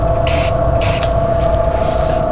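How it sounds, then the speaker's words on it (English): Two short bursts of CA activator aerosol hiss out close by onto a wood pen blank, one after another, over a steady electrical hum, followed by a fainter third burst. "Spray the activator,"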